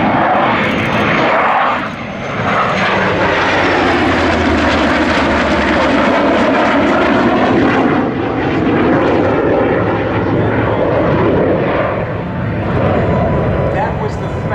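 A loud, steady roar of a US Navy EA-18G Growler jet passing overhead, filling the whole clip with a broad rumbling drone that swells and holds.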